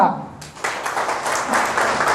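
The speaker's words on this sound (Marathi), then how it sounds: "टाळ्या वाजवा" Audience applause at a Marathi public talk, a dense rolling patter of many hands clapping that swells in after a brief quieter lead-in and holds steady and fairly loud, with a voice faintly underneath.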